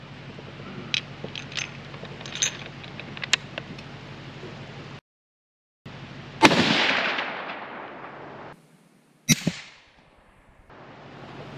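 .308 Winchester rifle firing factory ammunition: two loud, sharp gunshots several seconds apart, each with a long ringing decay, following some smaller clicks and handling noises.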